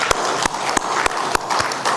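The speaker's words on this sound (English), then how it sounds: "can you please give a huge round of applause for yourself?" An audience at an education leadership summit claps in a brief, sparse burst of applause, with individual sharp claps distinct rather than a dense roar.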